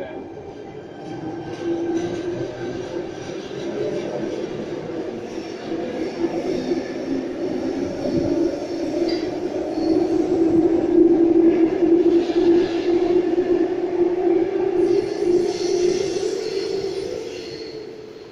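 A Sydney train pulls away from a platform on the Epping to Chatswood Rail Link on its final day, a steady close rumble swelling gradually with a faint high whine, no voices present.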